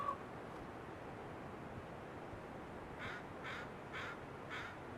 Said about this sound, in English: Look at the bird.